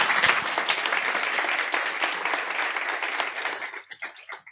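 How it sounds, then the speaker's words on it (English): Audience applause at the T3chFest 2024 tech conference, as a speaker is introduced: a loud, dense burst of many hands clapping that holds steady, then thins into a few scattered claps before fading out. "An applause."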